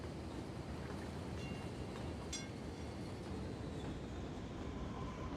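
A train in the city-building game Cities: Skylines rolls along, a faint, steady rumble with a brief clank near the middle.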